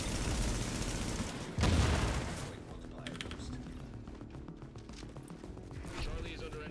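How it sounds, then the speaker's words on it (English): Rapid bursts of gunfire with fire bullets sound in The Division during a Last Stand match, a dense volley peaking early then easing into scattered crackling shots, with someone talking over the action. "now we have fire bullets."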